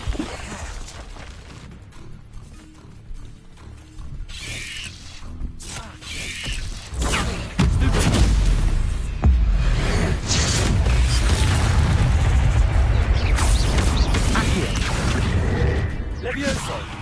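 Repeated Confringo blasting-spell explosions from the video game Hogwarts Legacy: loud, dense bursts and booms that build after a quieter start, sustained and heavy through the back half, with game sounds and voices mixed in.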